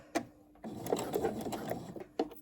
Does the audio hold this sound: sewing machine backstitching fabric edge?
yes